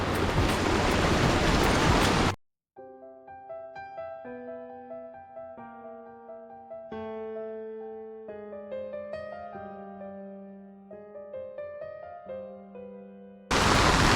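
A flooded river in heavy monsoon rain rushes loudly as broadband roaring water for the first two seconds, then gives way to a stretch of melodic music before the rushing roar returns briefly at the end.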